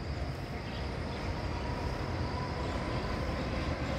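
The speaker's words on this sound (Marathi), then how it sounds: "रेल्वेचा जो ब्रिज आहे त्याच्यामधनं लोकल चाललेली आहे." A Mumbai–Pune local train crosses a railway bridge over a river, a continuous heavy rumble and rattle of wagons heard from a distance, steady and dense, with no talk.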